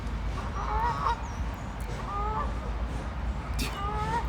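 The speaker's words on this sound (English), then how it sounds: "I told you I freaking hate geese." Geese honk repeatedly at a lakeside brunch, several nasal calls in bursts over steady outdoor background noise, fairly close.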